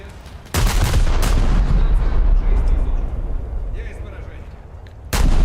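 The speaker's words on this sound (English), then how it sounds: "Always good to see them detonate." A warship, the Scharnhorst, detonates in a naval video game with a loud, sustained rumbling blast, heavy booms opening and closing the roar, close and dominant with no talk over it.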